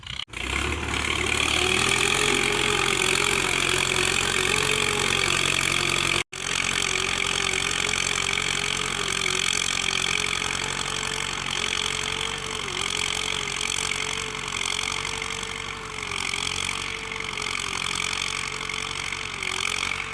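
A tractor engine ploughs a garden field ahead of potato planting, a loud, steady mid-pitched drone with a faintly wavering tone that runs continuously for twenty seconds, broken once by a momentary dropout.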